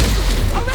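A Confringo blast spell explodes in Hogwarts Legacy, a loud, dense burst of rumbling booms that fills the whole short moment without a break.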